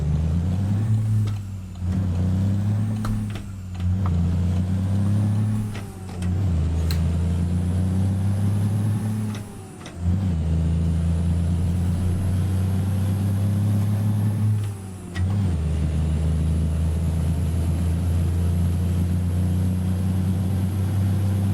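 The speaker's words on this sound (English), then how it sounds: "Still love this truck though. Just a good old cab over." A cab-over semi truck's diesel engine in American Truck Simulator, a loud steady drone that dips and surges through several gear shifts as the rig drives on, with no talk.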